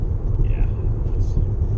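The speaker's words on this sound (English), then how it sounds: "rumble strips are louder in this car because the tires are so fat" Fat tires on a car rolling over road rumble strips give a loud, steady low drone heard from inside the cabin, continuous throughout.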